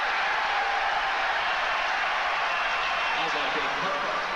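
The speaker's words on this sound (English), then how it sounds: "a sarcastic reaction from the crowd on that foul that was called on Cartwright" Basketball arena crowd reacting sarcastically to a foul call at a 1992 Bulls vs Pistons game, a dense, steady roar of many voices filling the whole stretch without letup.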